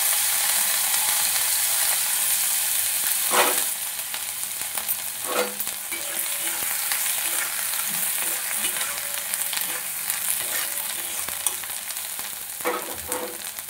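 Ginger tossed into whole spices (cloves, cardamom, cinnamon, bay leaf, dried chilli, cumin) frying in a pan for a mixed vegetable dish, a steady close sizzle broken by a few sharp scraping stirs.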